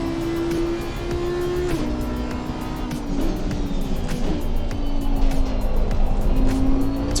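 Race car in Assetto Corsa Competizione roaring continuously at high revs, with the engine note sweeping up and down through gear changes and the sound slowly getting louder, no voices.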